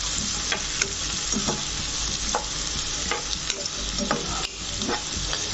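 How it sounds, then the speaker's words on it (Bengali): Onions fry in a pan for a brinjal potato curry, a steady loud sizzle with the repeated scrape and clack of a spoon stirring, close and continuous without talking. "তো এরপরে এটাকে আমি এইভাবে কিছুক্ষণ নাড়তে থাকবো।"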